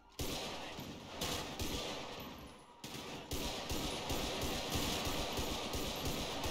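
Sustained gunfire in the video game GTA 5, with dense rapid bursts running almost without a break. It stays loud and continuous apart from two brief gaps.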